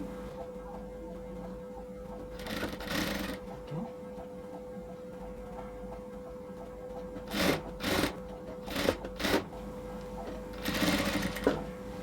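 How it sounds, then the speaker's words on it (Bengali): A sewing machine stitches piping onto a fabric neckline, with several short bursts of rapid mechanical whirring separated by pauses and a steady background hum. "তো আমি প্রায় এখানে হাফ ইঞ্চির চেয়ে কম, মানে কোয়ার্টার ইঞ্চ বরাবর হচ্ছে সেলাইটা করতেছি।"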